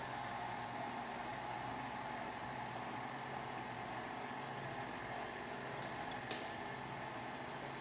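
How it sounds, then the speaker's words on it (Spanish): Electric mixer whirring steadily through almond cake batter with flour, baking powder and salt, a constant even drone at moderate level with a couple of faint clicks near the end. "voy a comenzar a batir todo a que se mezcle"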